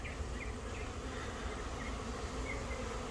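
A honey bee swarm hums steadily around hive boxes, a dense continuous drone of many insects close by with no voices.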